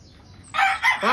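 A pure white Kelso brood stag rooster crows twice in close succession, loud and near, rising out of a quiet background after a brief pause.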